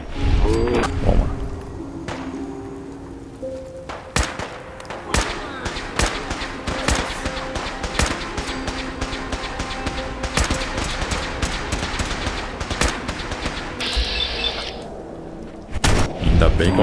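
Long-range weapon gunfire in the video game Fallout 4: a steady run of sharp, loud shots and heavy blasts, fired almost continuously with little pause between them, with a voice talking underneath.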